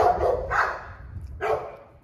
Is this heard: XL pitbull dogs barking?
yes